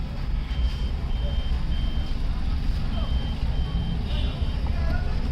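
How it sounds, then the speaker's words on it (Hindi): A reversing vehicle sounds its backup warning beeps outdoors, the faint repeated tones partly buried under steady engine rumble and surrounding noise. "गाड़ी हमारी बैक जा रही है।"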